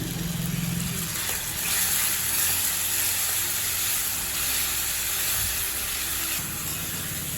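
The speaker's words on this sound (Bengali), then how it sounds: "এবার টমেটোর সাথে মশলাটা আবার খুব ভালো করে কষিয়ে নেব।" Spices cooking with grated tomato and fried potatoes in a pan for a vegetarian potato and pointed gourd curry: a steady, soft sizzling hiss held throughout at low level, with no speech.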